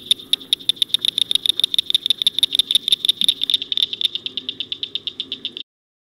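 Cricket frogs call in a rapid, steady series of sharp clicking notes, with some calls overlapping. The clicks slow and thin out toward the end before stopping abruptly, leaving silence.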